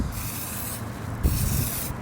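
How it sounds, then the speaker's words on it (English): Plasti Dip hisses from an aerosol spray can onto a 2018 Mustang GT in light, long back-and-forth passes, a close steady spray broken by brief pauses between strokes. "you wanna go real light on it, just long passes back and forth. Pretty much just like any spray painting."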